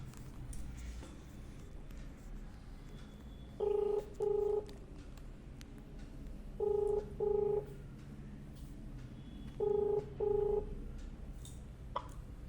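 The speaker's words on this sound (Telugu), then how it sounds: "సో ఫోన్ చేయండి అక్క, ఇది కూడా మనకు ఒక ప్రూఫే" Phone dialing heard over speakerphone, paired tone beeps repeating in three evenly spaced groups of two against a low background hum, no voices.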